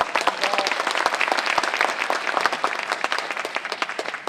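Audience applause at a union culture lecture on retirement pensions welcomes a bank pension speaker, a dense, steady clapping from a seated crowd that holds for several seconds.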